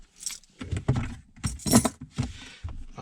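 Car keys jangle and clink in repeated bursts as a bunch holding Buick and Toyota Supra keys is handled up close, with no other sound competing.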